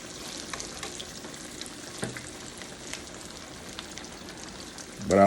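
Cut eggplant fries in two skillets, a constant soft sizzle and crackle with occasional sharper pops, ending in a brief louder clatter near the end.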